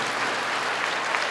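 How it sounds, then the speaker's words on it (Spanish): A church congregation claps together in steady, dense applause that fills the room evenly for the whole stretch, with no voices standing out. "Este pueblo debe expresar emociones dándole aplausos a Él en esta hora."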